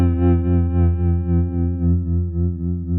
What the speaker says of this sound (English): I'll show you the differences in tremolo sounds you can get out of the same pedal